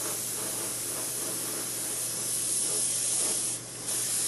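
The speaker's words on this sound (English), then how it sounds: "I'm just spraying it lightly enough to where the pre-shading will start to show through." An airbrush sprays paint lightly onto a model landing pad at 15 psi from about five and a half inches away, a steady close hiss running throughout with a brief dip near the end.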